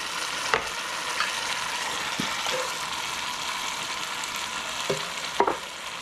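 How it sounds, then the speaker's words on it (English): Tomatoes with basil going into sautéing translucent onions in a pot, a soft steady sizzle with a few sharp spoon clinks and knocks, fairly close and with no speech. "So let's go ahead and add the tomatoes."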